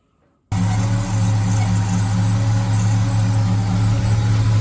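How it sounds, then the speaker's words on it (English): A 1965 Chevrolet Impala engine, freshly fitted with a one-wire 150-amp alternator, kicks in after a brief silence and runs at a steady, loud, low idle close to the listener. "this is after we got the alternator installed, the engine is running"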